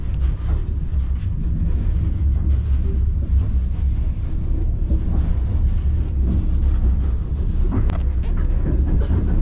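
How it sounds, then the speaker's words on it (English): Steady low rumble and rattle of a moving passenger train in Ukraine, heard from inside a carriage, continuous wheel noise with occasional clacks, no talking. "Let me give you a little bit of a tour of this train"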